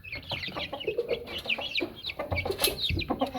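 Light Columbian Brahma chickens on a Karachi farm, a busy close chorus of overlapping clucks and short squawks, with no talk.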